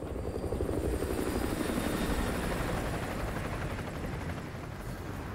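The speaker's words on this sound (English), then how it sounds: "Chopper inbound, keep low." A helicopter drones overhead in a realistic military shooter game, its steady rotor chop and engine roar holding at moderate, even loudness throughout with no talk.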